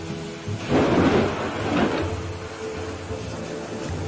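A heavy thunderstorm: two deep rolling thunder rumbles close together over a steady bed of rain, loud and near.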